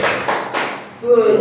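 Schoolchildren in a classroom do a rhythmic clapping game, with a couple of quick clap bursts followed by their voices chanting together.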